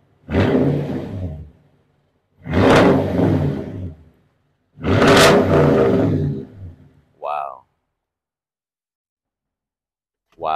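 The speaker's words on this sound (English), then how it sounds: "you can hear what it sounds with stock pipes and with the Flowmaster Super 10 on it" A Toyota Tundra TRD Pro with a Flowmaster Super 10 aftermarket exhaust revs in three loud, deep bursts of a couple of seconds each, with a short gap between each, then a brief pause before a final short sound.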